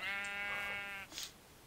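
A single sheep in the Godcraft Frontiers video game lets out one long, loud, wavering bleat lasting about a second, followed by a fainter short sound.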